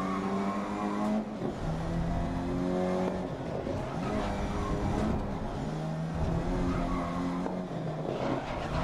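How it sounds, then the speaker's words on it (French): Race cars roar through a rainy circuit in the GRID racing game, engines revving and shifting with tire skids and squeals, a steady layered mechanical drone without talk. "Ah, les bruits des moteurs sont assez sympas."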